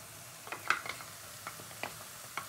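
Kashmiri chilli paste frying in oil for chicken Manchurian: a faint, steady sizzle with a few soft clinks and scrapes of stirring scattered across it, no voices.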